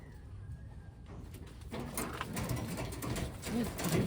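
Soft pigeon coos sound close by in the second half, low and throaty, over faint rustling and handling noises.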